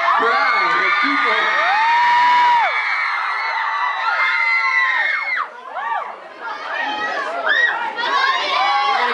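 A live concert audience cheers and screams, with high-pitched whoops and shouts rising and falling in dense waves, loud and sustained, with some talking mixed in.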